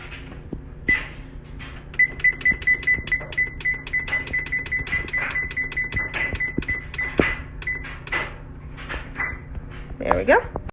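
Oven door handling and a series of sharp electronic beeps as a buffalo chicken dip goes in, rapid beeps in a row followed by clatter and kitchen bumps, with a voice talking over it.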